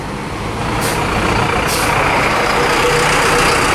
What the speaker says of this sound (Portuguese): Mais um micro-ônibus passando aqui